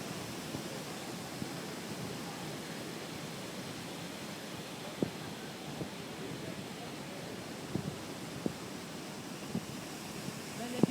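Waterfall over boulders in Seattle, a constant broad rushing roar heard from nearby, with a few faint clicks over the steady flow.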